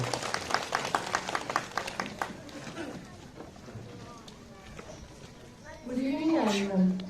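Clapping from a school audience thanking a guest during an official visit in Kargil, Ladakh, dense broadband claps in the first seconds fading under murmur, then a voice begins speaking near the end.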